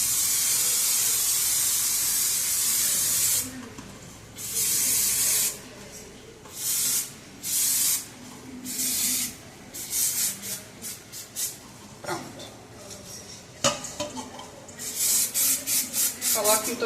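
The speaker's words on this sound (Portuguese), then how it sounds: "Mas eu tenho esse desmoldante aqui e aí eu vou colocar ele" Cake pan release agent sprayed onto a baking tin for a passion fruit cake: a series of short, sharp hissing spray bursts, close and fairly loud, separated by pauses, with a voice talking between them.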